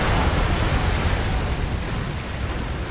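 A loud, dense explosive roar from a spike grenade detonation in the video game Fracture fills the whole stretch and stays close and sustained before easing slightly.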